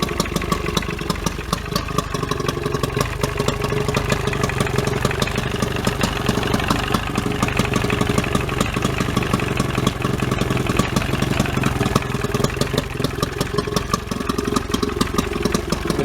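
A 25 hp Johnson outboard motor idles in forward gear, a steady close, loud, rattling putter that holds an even rhythm throughout with no talking.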